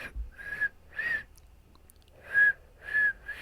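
Someone whistles a short tune in brief repeated notes with pauses between, fairly soft and close, no talking.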